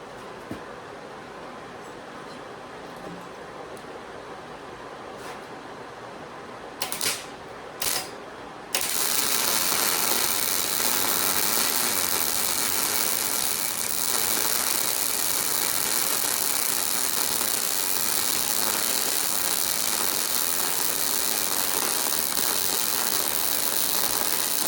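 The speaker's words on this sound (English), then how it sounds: "Hey, let's do a little welding." A Hobart Handler 140 MIG welder lays a bead after an idle hum and a few short clicks of the trigger, breaking into a loud, steady crackling hiss that runs to the end.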